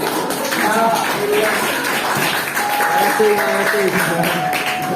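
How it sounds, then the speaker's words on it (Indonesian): An audience applauds at a school class session, dense sustained clapping with voices chattering over it throughout. "silakan beri aplaus"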